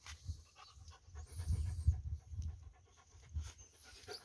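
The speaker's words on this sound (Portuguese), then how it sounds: "Cachorro aqui por um meio, atrapalhando um pouco, mas é normal" A sheepdog pants in quick rhythmic breaths close by on a farm in the semi-arid Brazilian backcountry, the huffing steady and fairly soft with a few louder bursts and no talking.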